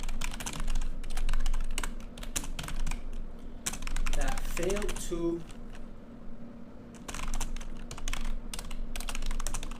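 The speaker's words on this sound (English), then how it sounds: "I'm sorry guys that I'm typing so slow." Fast, uneven computer keyboard typing with a mic mounted just above the keys, so the clicks sound loud and close, running through the whole stretch with a brief pause, while a person talks over it.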